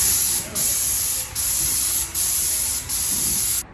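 Paint sprayer coating the walls of a master bedroom during a home renovation, a loud steady hiss in four long bursts separated by brief pauses, close to the microphone.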